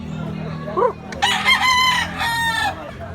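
A bullstag rooster crows loudly and close by, a single long drawn-out call over a low background hum, at a chicken sale in Consolacion, Cebu.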